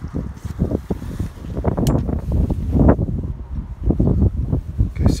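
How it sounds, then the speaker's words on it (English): Heavy wind buffets the microphone in rumbling, low gusts that rise and fall steadily throughout, with no voices. "it's a little windy today"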